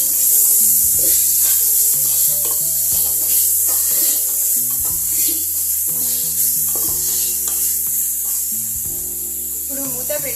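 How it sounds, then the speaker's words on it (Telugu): Salt is mixed into bagara rice in a pan with repeated close scraping and stirring strokes and a light sizzle, all under steady background music with a constant bright hiss. "మొత్తం మిక్స్ చేసుకోవాలి."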